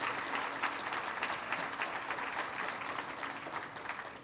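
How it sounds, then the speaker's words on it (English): Steady round of clapping from an audience at a Small Business of the Year awards ceremony, moderately loud and continuous with a fairly even, ongoing patter of hands. "Let's give them a good old round of applause."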